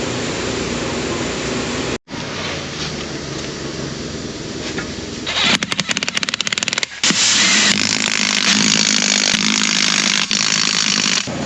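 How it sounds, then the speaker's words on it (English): A saw cuts the ends off 4.5-inch metal tubing outdoors on a farm, a loud, harsh grinding roar that stops briefly, resumes, then intensifies into a sustained screeching cut. "So we're gonna have to cut the ends of that off to make it fit snug."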